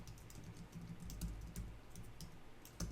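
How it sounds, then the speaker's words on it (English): Rapid typing on a computer keyboard while entering a web address into a real estate CRM program, a steady run of close, fairly loud clicks with a few heavier keystrokes and no talking. "and then just type in"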